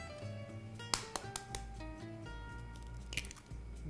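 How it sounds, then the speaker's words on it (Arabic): Eggs are cracked and dropped into a bowl of cake batter, giving soft wet squishes and a few sharp taps and drips up close over a low background hum. "هنحط البيض"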